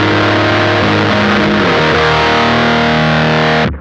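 Electric guitar through a Lichtlaerm Audio Altar distortion pedal with the treble turned fully down, a dark, thick sustained chord of a few notes ringing loud and alone before cutting off abruptly.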